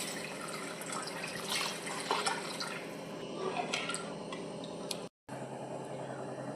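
Water trickles and splashes into a pot of country chicken soup with turmeric, a light, fairly quiet pouring sound with small drips, broken by a brief cut near the end.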